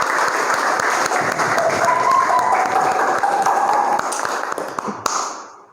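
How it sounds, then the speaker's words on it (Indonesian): Classroom audience applauds Mas Pandu, a quiz game winner, with dense steady clapping that fills the room, then tapers away near the end. "Oke, tepuk tangan untuk Mas Pandu."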